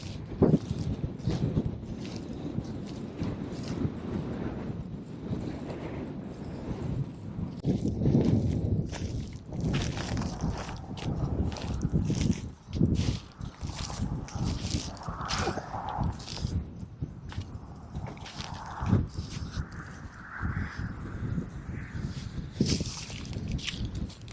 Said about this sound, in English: it's way too windy out there to talk